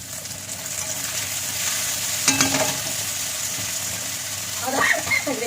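Tomatoes frying in a pan after chopped onions, a steady close sizzle with a brief clatter of stirring partway through.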